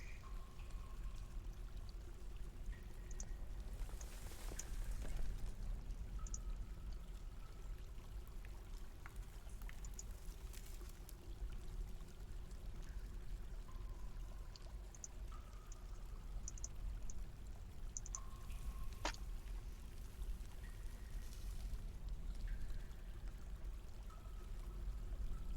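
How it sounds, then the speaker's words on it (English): Water in Dwarf Fortress flowing in a constant faint pouring wash, with scattered soft game clicks and blips over it. "Even more water."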